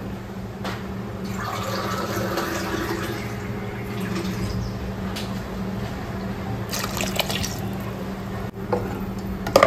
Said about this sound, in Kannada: ಇದಕ್ಕೆ ನಾನು ಪುನಃ ನೀರು ಹಾಕೊಳ್ತಾ ಇದ್ದೇನೆ